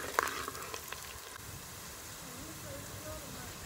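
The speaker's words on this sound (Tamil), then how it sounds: "ஃப்ரெண்ட்ஸ், வெங்காயம் வந்து நல்லா வதங்கிருச்சு." Onions frying in a pan make a faint, even sizzle and hiss, with a single clink near the start and quiet talk over the top.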